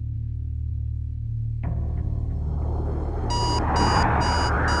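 An alarm clock set to wake a teenage daughter early in a home at night gives a series of sharp, evenly spaced electronic beeps that start partway through, over a low rumbling background.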